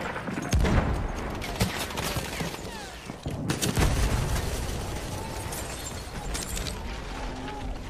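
Weapon fire in the video game Battlefield 1, with dense bursts of rapid gunshots and booming impacts filling the mix, loud and continuous, with battlefield noise throughout.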